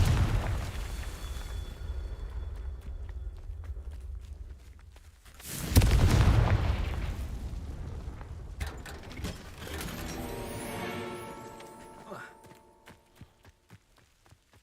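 A Confringo spell explodes in Hogwarts Legacy with a single loud burst near the middle, its rumbling low boom tailing off, set against steady game ambience and scattered mechanical clicks afterward.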